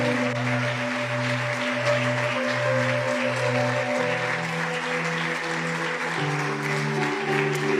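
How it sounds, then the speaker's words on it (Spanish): Church congregation applauding to the Lord, a continuous clapping wash at moderate level heard over sustained low keyboard or organ chords that shift pitch every second or so. "Dale un aplauso al Señor."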